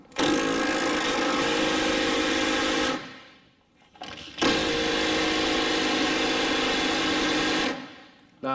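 A Milwaukee 3/8-inch drive power tool works on a vehicle's steering gear box in a shop, giving two long, loud, steady whirring runs about three seconds each, separated by a brief pause, with no talk.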